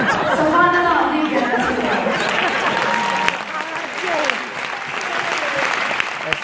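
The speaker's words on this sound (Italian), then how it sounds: "Anche applausi." Audience applause fills a theatre, steady and dense with crowd chatter mixed in, easing somewhat after the midpoint but continuing throughout.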